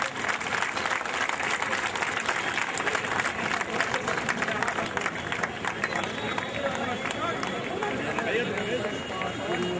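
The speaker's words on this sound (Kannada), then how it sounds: "ಜೋರಾದ ಚಪ್ಪಾಳೆ ಮೂಲಕ" Loud, continuous applause from a large crowd at the opening ceremony of a sports meet, steady dense clapping filling the whole stretch with crowd noise mixed in.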